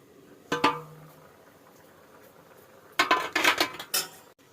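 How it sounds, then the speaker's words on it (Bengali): A spoon stirs pasta in a metal cooking pot, giving one sharp clink early on, then a quiet pause, then a cluster of several rapid scraping clatters near the end, with no voices. "একটু নেড়ে দিই"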